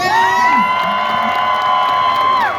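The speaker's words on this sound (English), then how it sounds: "let's hear a roar of applause for him once he emerges" A crowd at a high diving show on a Cedar Point boardwalk cheers loudly, with children shouting and whooping in sustained, overlapping high voices, close and continuous for a few seconds.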